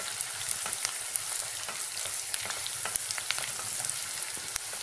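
Whole garam masala and green chillies frying in oil for a spicy mutton curry, a dense crackling sizzle with sharp pops and spits throughout, close and steady, no talking.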